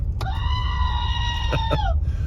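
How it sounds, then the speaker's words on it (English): A screaming sheep squeaky toy lets out a long, shrill, bleating scream, briefly wavering then dropping off, loud and close. "I'm going to put the screaming sheep away for right now"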